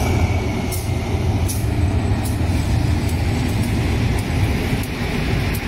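GE CM22-7i diesel locomotive hauling Special Express Train 26 from Nong Khai to Bangkok, heard as a loud, steady rumble with rhythmic clicks of wheels on rail joints throughout.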